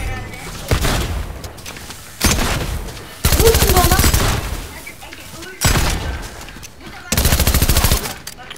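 Automatic gunfire sounds in bursts during a Fortnite match, with loud, rapid volleys separated by short pauses and a voice talking between them.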